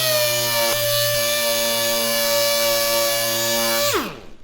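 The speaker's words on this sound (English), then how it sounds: "We're just going to sand that edge where that little bead is, where that little ridge is, and just smooth it off" A power sander works the beaded edge of a door panel with 150 grit, a loud, steady high-pitched whine running continuously close by before spinning down at the end.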